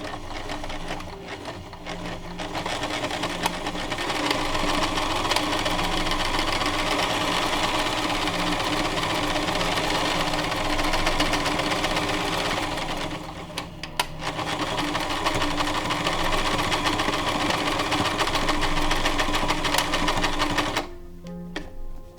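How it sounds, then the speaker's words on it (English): Sewing machine stitching cargo pants fabric, running steadily for a long stretch, a fast mechanical whir and rattle up close, pausing briefly midway and stopping near the end. "feed it through the sewing machine"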